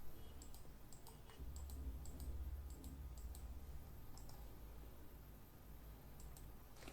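Keys tapped on a computer keyboard to enter a drawing shortcut in AutoCAD: a few quick, light clicks in small clusters over a low steady background hum, no talking.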